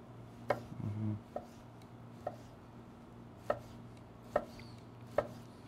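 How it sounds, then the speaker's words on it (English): A knife chops salad vegetables (endive, spinach and radishes) on a cutting board in a kitchen, landing about seven sharp, evenly spaced strokes close up over a quiet hum, with no talking. "So I'm gonna be chopping some of this up just to get ready here."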